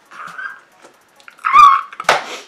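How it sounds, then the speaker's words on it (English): A puppy in Minecraft lets out short synthetic whimpers, a soft whine followed by two louder high yelps, close and alone with no talk. "Look at that puppy!"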